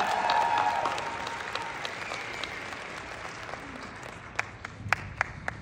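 Audience applause, steady and dense at first, then thinning out into a few scattered, sharper claps near the end.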